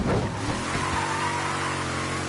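Car engine noise and tire skid in Mafia 3, a steady loud rushing drone of driving with a brief squeal near the start, no talking.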